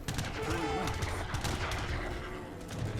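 Constant battle noise from Age of Empires III, with culverin cannons firing at enemies amid dense, overlapping shots and rumbling impacts, steady and loud throughout.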